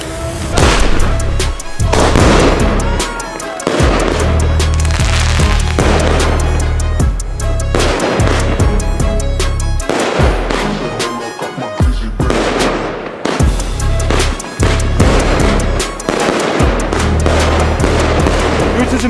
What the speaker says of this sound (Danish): Aftens første batteri her. Vi skyder en lille bitte sandstorm af.